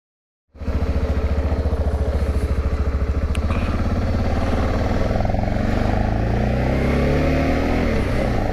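Motorcycle engines fire up after a brief silence and settle into a loud, close, rapid chugging rumble as riders prepare to set off on a ride in northern Croatia.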